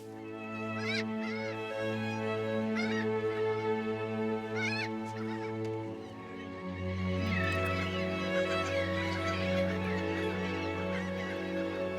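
A steady, droning chorus of calling seabirds fills a nesting colony on an island, with layered tonal cries and higher squawks overlapping continuously at moderate distance, no speech over them.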